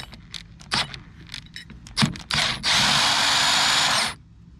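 A power tool spins off the rear hub nut on a 2009 Yamaha Drive golf cart using a non-impact socket, with a few clanks and scrapes first, then a loud steady whir of about a second and a half, close by.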